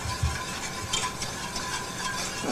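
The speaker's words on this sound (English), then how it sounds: "Okay, just keep stirring" A spoon or whisk scrapes steadily through a flour-thickened sauce in a pan, producing soft repeated swishes over a faint continuous sizzle, with no voices.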